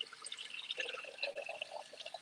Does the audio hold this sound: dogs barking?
no